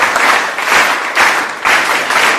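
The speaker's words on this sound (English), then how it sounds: "Round of applause for her." A seminar audience gives a student a round of applause, clapping in loud, swelling waves that rise and fall in a few regular pulses, close and brief, with no talk.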